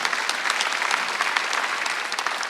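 Congregation applauding during a Korean church Sunday worship service, a steady dense wash of many hands clapping together that holds evenly at moderate loudness throughout, with no speech over it.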